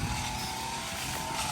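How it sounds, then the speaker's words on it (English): A Skag 61 riding mower engine runs steadily as it mows thick brush with branches up to an inch and a half thick, a continuous droning hum with a raw edge, fairly distant and even throughout, no talk. "brought the Skag, the big 61. Just gonna try to mow this over"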